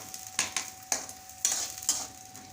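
Chopped onions fry in hot oil as a spoon stirs them, a low steady sizzle broken by four or five brisk scraping strokes close by, with no talking.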